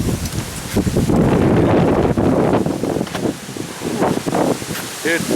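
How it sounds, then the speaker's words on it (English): Gusty wind blows outdoors on a windy day, a loud broadband rush buffeting the microphone steadily for several seconds, with a faint voice briefly near the end. "It's a windy day here."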